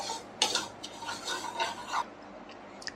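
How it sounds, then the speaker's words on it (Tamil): A spoon scrapes and clinks around a pan of sugar melting over a medium flame for caramel sauce, a few light metallic taps and stirring rubs, close and soft with no talking. "இப்போ அடுப்பை மீடியம் ஃப்ளேமில் வச்சுட்டு இந்த மாதிரி சுகரை வந்து நல்லா மிக்ஸ் பண்ணி விடுங்க"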